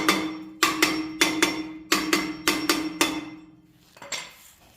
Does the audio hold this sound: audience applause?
no